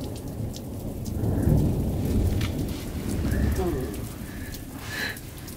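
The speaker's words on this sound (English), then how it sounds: "it's a slow moving storm" Steady rain hisses from a slow-moving thunderstorm while low rolling thunder rumbles in the distance and rises and falls, with a few faint chirps above it.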